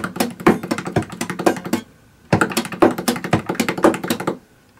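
A guitar is played with slap strumming, with left-hand ghost notes filling the gaps, giving dense, rapid percussive taps and thumps in two bursts around a brief pause.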